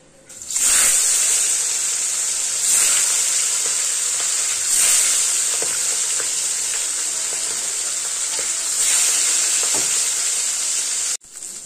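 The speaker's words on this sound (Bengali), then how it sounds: "তেল গরম হয়ে গেছে, কমপ্লিট মাছগুলো আমি ভেজে নেব।" Fish fry in hot oil, giving a loud, close, continuous sizzle with periodic spattering surges that cuts off abruptly near the end.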